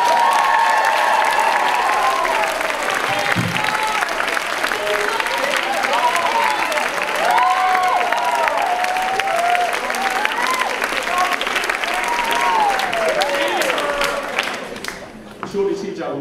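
Audience at a school rock concert applauds and cheers steadily for about fourteen seconds, with whoops and shouted voices rising above the dense clapping before it fades near the end.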